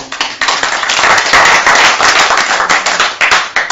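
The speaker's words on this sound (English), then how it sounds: "Give him a clap" A crowd claps loudly and continuously, dense overlapping applause that holds steady before thinning out at the end.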